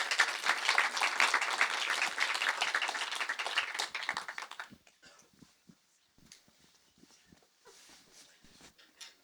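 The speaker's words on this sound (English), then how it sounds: "Give them all a big round of applause, guys" Conference audience applause rings out loudly for about four and a half seconds, then drops off abruptly, leaving a few scattered claps, shuffling and quiet room noise.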